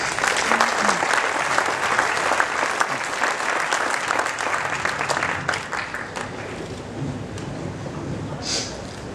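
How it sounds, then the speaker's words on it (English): Sustained applause from a chess tournament audience, steady and dense at first, then gradually thinning out toward the end. "And you may also give them an applause"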